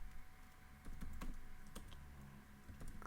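Fast, uneven clattering of keys on a computer keyboard, close and fairly quiet, with bursts of rapid strokes and brief pauses between them.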